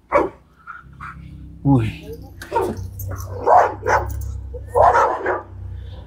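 Dog barks come in several sharp bursts at close range outdoors at a fishing spot where people pass with dogs, mixed in with men chatting casually.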